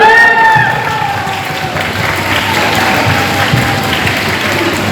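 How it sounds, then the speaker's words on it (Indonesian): Audience applause at a Month of Love talkshow, a steady wash of clapping from a crowd that starts loud, eases slightly and continues evenly for the whole stretch, with a voice briefly audible at the start. "Tepuk tangan lagi dong, sekali lagi."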